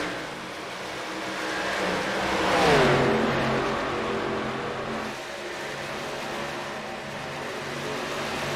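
Race cars battling on the Texas track in a championship race, with a loud engine roar that swells as a car passes close by, then settles into a steady drone of engines.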